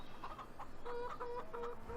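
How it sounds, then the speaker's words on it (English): Chickens cluck repeatedly in a Farming Simulator 15 farmyard on the Lochmithie map, a steady run of short clucks and calls close by, with no talk. "Whoa, the size of them chickens."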